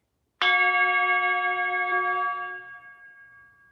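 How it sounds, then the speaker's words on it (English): A large Tibetan singing bowl is struck once and rings with a sharp onset, then sustains a steady, harmonically rich tone for about two seconds before slowly fading, with no talking. "this is one of my bigger Tibetan singing bowls"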